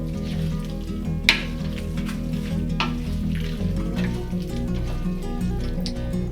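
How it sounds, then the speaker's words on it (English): An aduki bean curry with plantain and snake beans simmers in a covered pot, giving a soft, steady sizzling bubble. A faint clink sounds near the start, a low steady hum sits underneath, and no one speaks. "Stir, cover and let the curry simmer for another 15 minutes."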